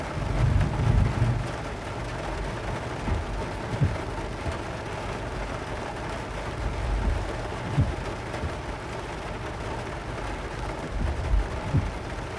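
Steady rain pattering on a surface, with low thunder rumbling faintly in the distance beneath it, during a supercell storm in Oklahoma.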